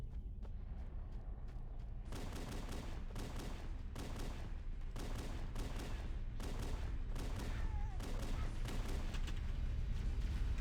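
Dual pistols emptying their magazines in Halo, rapid overlapping shots in quick bursts that build into near-continuous firing, with background game sounds.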